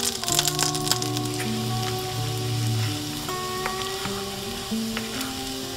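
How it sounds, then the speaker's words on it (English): Fresh garlic sizzling in melted butter in a pan over medium to medium-high heat: a soft, continuous crackling hiss with a musical tone running underneath. "Now that the butter is melting nicely, I'm going to lower my heat to a medium to medium high. I just added 1 teaspoon of fresh brown garlic."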